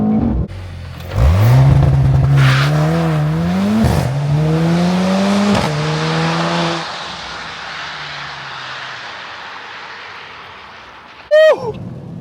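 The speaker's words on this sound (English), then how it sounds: "Now that is a proper race start." A Mercedes-AMG GLC 63 S makes a launch-control race start: the engine roars loudly and climbs through several upshifts with brief dips between gears, then fades to a steady cruising whine, with a short loud burst at the end.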